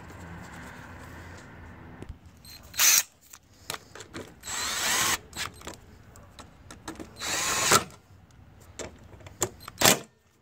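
Power tool whirring in short bursts while tightening bolts on a 2013 Lincoln MKS during crankshaft position sensor replacement, with intermittent loud spurts and quiet gaps, close by.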